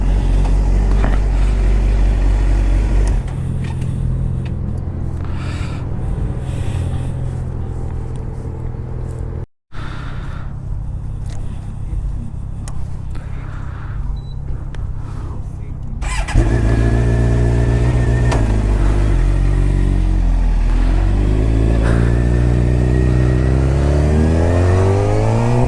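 A motorcycle with an extremely loud exhaust rumbles heavily at close range, revving and accelerating with rising and falling pitch sweeps as it heads onto a highway, with a brief cut partway through.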